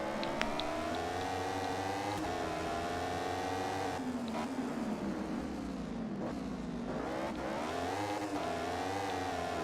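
Continuous high-revving motorcycle engine from the MotoGP 15 racing game, its pitch rising and dropping through gear changes and corners along a flowing track, loud and steady with no talk.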